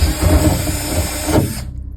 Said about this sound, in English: got the worst drill in the world.